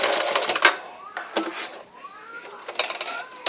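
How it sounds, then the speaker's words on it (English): Sewing machine running a short back stitch at the end of a seam on a pillow, with quick mechanical clatter and whirring bursts, fairly close and moderate in level, no talk over it. "Get to your end and do a back stitch."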